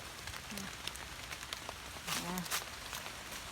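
Light rain pattering on surfaces during mushroom picking outdoors, a soft constant hiss with scattered drops, with faint voices talking briefly in the background.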